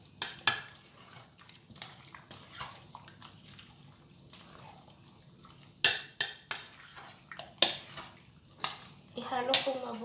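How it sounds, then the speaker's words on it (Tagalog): Cooked macaroni with dressing and mixed ingredients is stirred in a bowl with utensils. Irregular clinks and scrapes of spoons against the bowl come close and clear, with soft wet squishes between them and quieter stretches between bursts. "Ihalo po natin siya mabuti."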